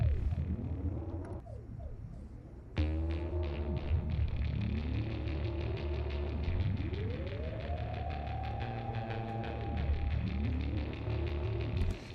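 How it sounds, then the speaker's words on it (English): A Moog Matriarch synthesizer sounds alone through a delay effect, with sweeping, arching pitch glides and repeating echoes over a steady low drone, getting fuller and louder about a third of the way in and staying dense and alien to the end. "showed me some really cool stuff you can do with the delay on the Moog Matriarch"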